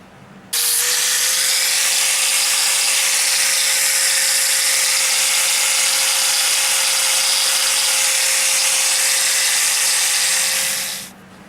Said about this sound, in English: I've grinded that flat now.